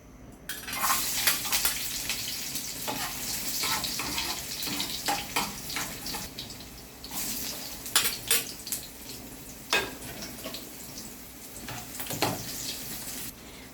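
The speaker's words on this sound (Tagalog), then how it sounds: "igigisa ko na lang muna ang sibuyas at bawang" Onion and garlic sauté in a pan for a noodle dish, giving a steady sizzle broken by scraping and clinking stirs, with no one talking.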